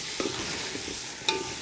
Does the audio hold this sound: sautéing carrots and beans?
yes